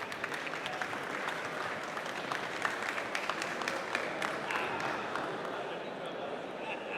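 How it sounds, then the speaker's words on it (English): Audience applause for a conference speaker being welcomed on stage, a dense, steady crowd clapping at moderate distance that holds evenly throughout without pause. "let's give her a big applause"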